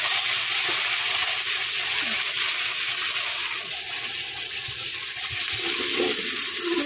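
Water poured into spices of cumin, coriander and chilli frying in hot oil in a wok sets off a loud, steady hissing sizzle that fills the whole stretch without a break.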